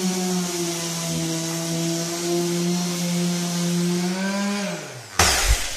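A cheap small electric sander sands glue residue off a floor, giving a steady loud motor whine with a bright abrasive hiss. The pitch then drops as it winds down, ending in a brief clatter.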